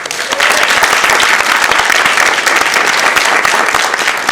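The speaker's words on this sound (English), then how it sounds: "So a round of applause to you as well." A room full of people at a Sacramento city council meeting breaks into sustained, dense applause, loud and steady clapping that carries through the whole stretch.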